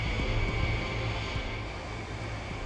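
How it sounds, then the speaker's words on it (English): Lockheed SR-71 Blackbird jet taxiing out of a hangar, a steady loud engine drone with a constant high whine and low rumble, continuous and close, with no talk. "it really got impressive is when it starts taxiing out of the hangar"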